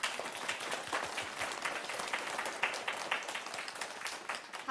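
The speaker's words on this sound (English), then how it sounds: "let's go ahead and give her a round of applause" An audience claps steadily for a zoo presenter who is about to show animals, with dense, even applause that carries on throughout the moment, no voices standing out above it.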